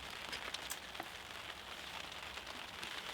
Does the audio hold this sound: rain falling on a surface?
yes